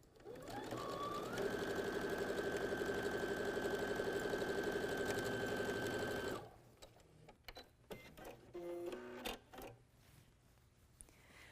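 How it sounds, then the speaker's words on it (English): A sewing machine runs steadily for about six seconds, stitching quilt fabric with a fast, even mechanical whir, then stops and leaves light handling clicks and shuffles. "now I'm just going to rotate my fabric around and stitch down the other."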